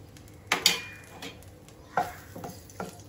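Dried red chilies hit hot oil in a pan, giving a few sharp sizzling bursts and clinks of a spoon stirring, close by, with quieter pauses between.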